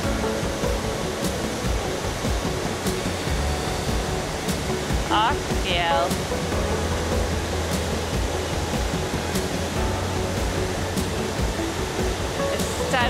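A waterfall in northern Bali roars in a steady, loud, close wash of rushing water that never lets up, with a brief human voice surfacing faintly in the middle.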